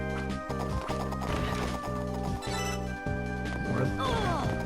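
A horse in the video game Castlevania: Order of Ecclesia clops along in a steady galloping rhythm and lets out a whinny, set over looping in-game music at moderate volume.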